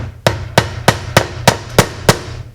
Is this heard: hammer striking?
yes